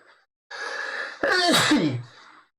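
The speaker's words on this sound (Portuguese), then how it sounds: "ao vivo é assim mesmo, a gente acaba às vezes espirrando" A single sharp sneeze from a host during a live morning market broadcast, preceded by a quick inhaled gasp, sounding close and loud in an otherwise quiet room.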